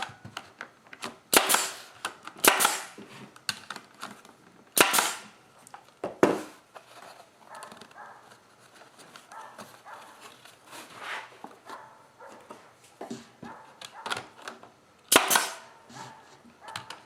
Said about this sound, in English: And I'm going to staple the center here. And then I can pull on the corners and staple there.